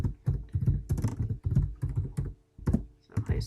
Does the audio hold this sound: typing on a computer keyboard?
yes